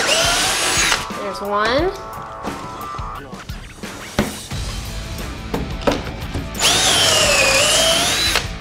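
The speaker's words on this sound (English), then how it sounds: "Our next step is to make 3/4 inch pocket holes on the 1x3 that serves as the bottom of the mail sorter." A power drill bores 3/4 inch pocket holes into a 1x3 wooden board: loud, close whining bursts at the start and end with a pitch that rises as the drill spins up. A person talks between the drilling.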